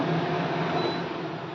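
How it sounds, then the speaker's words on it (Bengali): A steady broadband whooshing hum of a kitchen exhaust hood running continuously at moderate level, with no voices. "এতক্ষণ যে শব্দটা তোমরা শুনছিলে ওটা চিমনির শব্দ"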